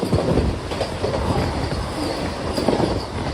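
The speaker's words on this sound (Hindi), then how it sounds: "ट्रेन निकल चुकी है हमारी 7:33 पर मुंबई के बोरीवली रेलवे स्टेशन से।" The Golden Temple Mail pulls out of Borivali station in Mumbai, heard from inside a sleeper coach as a steady, loud rumble with rattling wheel clatter and occasional squeals. No voices.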